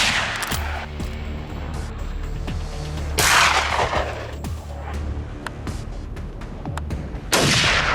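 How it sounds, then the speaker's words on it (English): Rifle shots ring out as a farmer dispatches trapped wild boars with a heavy-gauge rifle, loud sharp cracks and booms repeating at irregular intervals against a rumbling outdoor background. "The farmer grabs a .38 108 rifle loaded with heavy gauge bullets to dispatch them"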